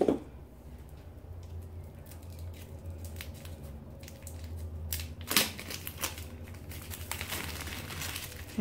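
Close-up snipping and crinkling of plastic wrap being cut off a bath bomb, with irregular sharp cuts and rustles over a low steady hum, no speech.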